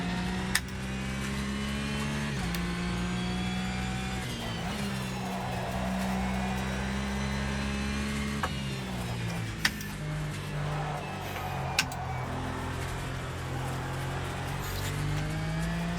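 GT4 race car engines in the AMS2 racing game at Brands Hatch drone and whine through gear changes, several cars layered at a steady mid volume, with a couple of sharp clicks and no talk.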